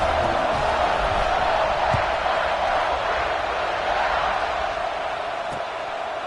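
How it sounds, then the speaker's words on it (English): A football video game stadium crowd buzzes steadily after a score, a dense, constant roar of cheering with no clear breaks, loud and alone throughout. "this crowd is buzzing after that last score"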